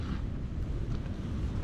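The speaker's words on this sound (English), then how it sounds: "It's windy." Strong wind buffeting the microphone at Grinnell Glacier Overlook in Glacier National Park, a steady loud low roar with gusty rumble throughout and no voices.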